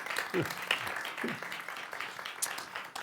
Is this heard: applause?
yes